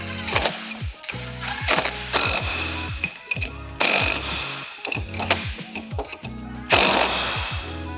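A hand ratchet clicks in quick bursts while bolting a wheel spacer onto a BMW X5 strut, with sharp repeated pawl clicks in several rounds separated by brief pauses, close and loud.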